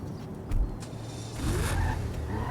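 Car in GTA 5 driving off, a steady engine rumble rising in the second half with a brief burst near the start, moderately loud.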